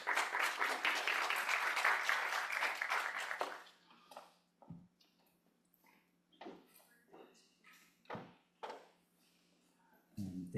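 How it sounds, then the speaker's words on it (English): An event audience breaks into loud, dense applause that fades after a few seconds, followed by scattered shuffling, footsteps and brief noises as people move on stage. "please give them a round of applause"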